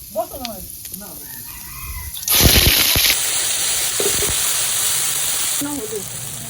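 Black and white mustard, poppy seed and green chilli paste for hilsa fries in a pan, a sudden loud sizzle flaring up then settling into a steady hiss, with brief stirring clatters.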